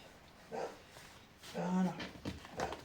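A pet female dog gives a few short whimpers and a yelping bark indoors during a scrapbooking session, fairly near, with background room noise between the cries.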